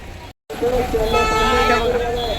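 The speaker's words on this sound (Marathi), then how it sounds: "किती ट्रॅफिक लागलं आहे बघा म्हणजे ट्रॅफिक म्हणजे गाड्यांची लाईन" Car and bus horns toot in a weekend traffic jam near Mahabaleshwar, short honks rising over the road noise of a long line of vehicles while someone talks over them.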